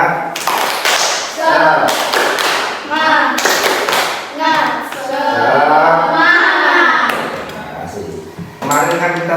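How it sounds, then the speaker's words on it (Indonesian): A class of students claps the rhythmic 'tepuk semangat' spirit clap, several bursts of sharp, loud claps in quick patterned sequence, with a teacher's voice interleaved between them. "Kita tepuk semangat."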